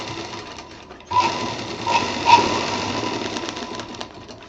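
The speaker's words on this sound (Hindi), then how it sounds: "अब इसको हम यहाँ पे एकदम जो कोना कटा था उस पर हम डबल सिलाई चला देंगे" A sewing machine runs a double line of stitching along the cut corner of fabric for a three-pocket hanger, a steady mechanical whir that starts after a quiet moment and continues close and moderately loud.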